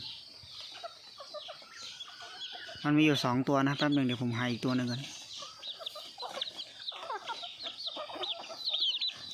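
Black-headed junglefowl hens in a backyard coop cluck softly and intermittently, with other fowl noises in the background, while someone talks over them at close range.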